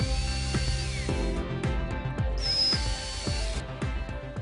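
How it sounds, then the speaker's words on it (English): Screws being driven into wall box supports during a masonry wall installation of two-module boxes, heard as repeated short tool bursts with tonal whine and regular clicking strikes, fairly loud and close, with no speech. "Once the correct position has been found, tighten the screws."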